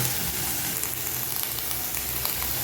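Shredded cabbage sautés in a frying pan with a steady, close, dense sizzle and faint stirring throughout.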